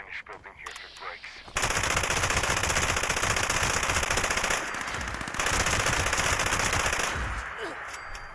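Sustained light machine gun fire in the video game Fallout 76, rapid continuous bursts with a brief dip midway, loud and close, with faint voices at the start.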